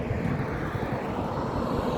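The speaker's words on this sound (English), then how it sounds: "Just taken off from Wilson Airport." An airplane takes off from Wilson Airport in Nairobi, its engines making a continuous, loud, broadband roar that stays steady throughout.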